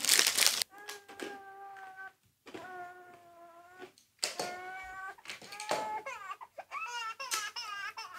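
A baby crying heard inside a family home, with repeated wailing cries in bursts separated by short pauses, fairly close and loud, with no talk over it.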